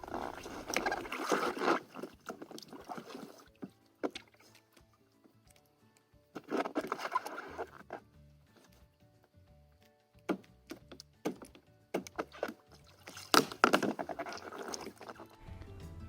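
A kayak being rolled upright in water during an Eskimo rescue, with bursts of splashing and sloshing separated by quieter pauses and a few sharp knocks.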